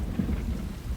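A cartoon thunderstorm with rain and hail gives off a brief, low continuous rumble of thunder beneath a steady wash of pouring rain, with no voices.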